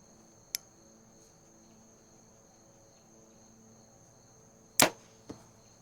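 Arrow from a bow striking a foam target during deer-season bow tuning: one sharp crack as it leaves the bow, then a loud impact thud some four seconds later and a smaller knock, with a steady cricket-like insect drone outdoors throughout.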